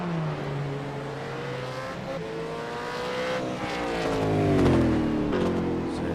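Race cars pass at speed on Sandown race track. Engine tones rise and fall as the cars go by one after another, and the sound swells louder toward the end. A commentator talks over the passing cars.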